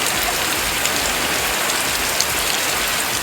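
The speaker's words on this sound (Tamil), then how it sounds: "எந்த ஒரு அறிகுறியும் இல்லாமல் திடீரென மிதமான மழை பெய்தது" Moderate rain falls steadily, a dense, even hiss of drops striking surfaces with no pauses or thunder, loud and close throughout, with no voices.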